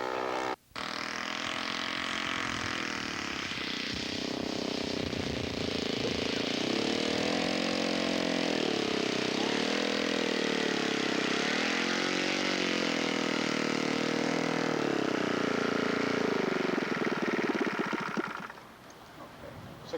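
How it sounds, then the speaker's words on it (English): A scale model propeller aircraft comes in to land on its first flight, its engine a loud, steady drone with a rising and falling pitch that holds for most of the stretch before cutting back sharply near the end. "Okay, final landing, first flight."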